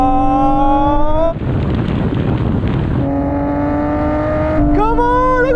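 Nissan GT-R cars, generations R32 through R35, accelerate hard in second gear from a rolling 30 mph drag race start, a loud engine roar with rising revs and a gear change, mixed with wind noise.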